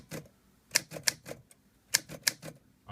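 A 1958 Olympia SM3 DeLuxe portable typewriter types a short burst of about a dozen keystrokes at an uneven pace, with a few sharper clacks standing out, close and fairly quiet.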